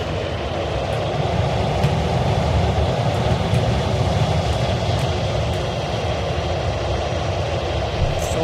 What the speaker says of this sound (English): the last time I played this game, this plane accelerates quick.